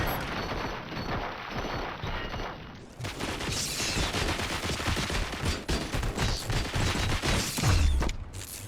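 Gunfire in RoboCop: Rogue City, sustained rapid automatic shooting and overlapping shots in a loud continuous fusillade, with a heavy low thump near the end.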